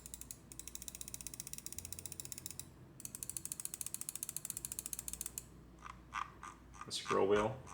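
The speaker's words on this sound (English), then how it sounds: "a sound test of mouse 1 and mouse 2 with those Razer switches" Rapid, evenly spaced clicks from the mouse 1 and mouse 2 Razer switches on a Razer Orochi V2 wireless mouse, close up, in long trains with a short break, followed by a brief rustle of handling at the end.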